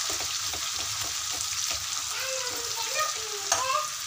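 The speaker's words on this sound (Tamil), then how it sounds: "வெங்காயம் வந்து நல்லா கோல்டன் கலர் வதங்கி வரட்டும்" Onions with curry leaves sizzle in a hot pan for an egg pepper fry, a dense continuous frying hiss up close with faint stirring scrapes.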